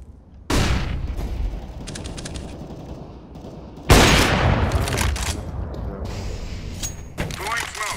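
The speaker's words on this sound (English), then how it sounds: "Deploying flashbang." In Counter-Strike: Global Offensive, a flashbang goes off amid a firefight, sharp loud bursts and bangs with ringing tails and scattered gunfire, close and harsh, under a busy game mix with voices.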